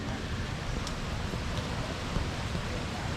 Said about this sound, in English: at the moment we've got some light winds and moderately heavy rain